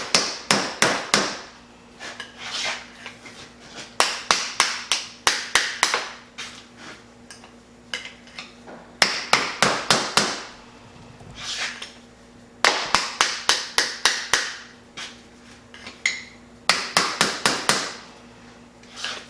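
Sharp metal-on-metal hammer blows drive a chisel inside a Dana 300 transfer case, landing in quick bursts of four to six strikes separated by short pauses, close and loud with a faint steady hum underneath.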